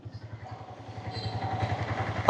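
A Yamaha R15 V3 motorcycle engine runs nearby with a low, steady pulsing idle that grows slightly louder toward the end, with no talk.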